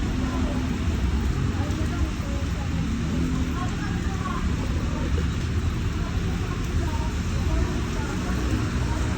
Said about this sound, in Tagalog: Grabe yung ulan, walang pahinga.